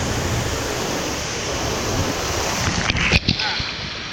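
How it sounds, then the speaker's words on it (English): A waterfall at Volcano Bay water park gives a steady, close, broadband rush of falling water, with a few louder splashes and bumps near the end. "There's a waterfall there. Let's go under it."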